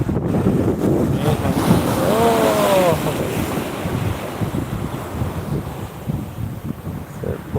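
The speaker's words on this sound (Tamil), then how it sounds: "கடல்" Sea waves wash onto the shore with a loud, rushing surge that slowly fades, mixed with wind buffeting the microphone and a brief voice early on.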